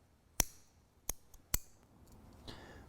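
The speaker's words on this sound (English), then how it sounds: "snip these off." Small thread snips click shut three times, close and crisp, trimming rope strand ends after an eye splice, with a faint rustle afterward.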